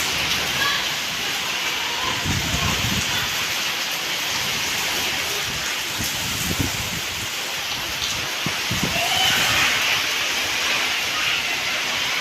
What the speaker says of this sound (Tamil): இந்த வெயில் காலத்துலேயே மழை, நல்ல செம மழை.